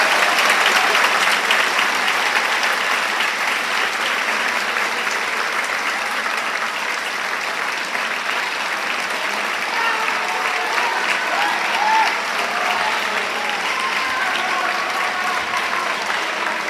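A crowd at a school Moving Up Day ceremony applauds students being called up, with sustained, dense clapping that stays fairly loud and even for the whole stretch.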